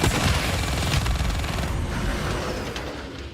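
Heavy automatic gunfire in the Call of Duty Black Ops 3 campaign, a loud sustained barrage of rapid shots with rumbling booms that gradually tapers off.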